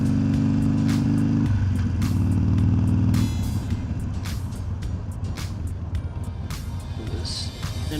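A motorcycle rides along a road, its engine droning steadily and loudly at first, then easing into a rougher rumble with wind and traffic noise around it, close to the rider.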